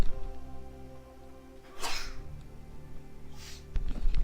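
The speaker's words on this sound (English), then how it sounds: "a little sneeze here" A single short sneeze bursts out near the middle, followed by a softer second burst, over steady game background music with no talk.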